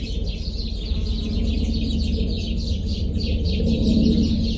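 Many birds chirping busily together in a dense, continuous chorus over a low steady rumble.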